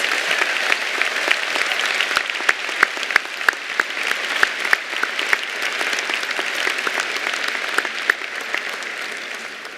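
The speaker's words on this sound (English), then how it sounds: "Please join me in a round of applause for all of our doctoral graduates." Graduation ceremony crowd applauding the doctoral graduates at a university spring commencement, a broad continuous roar of clapping from a large audience with occasional sharp claps standing out, steady and full throughout.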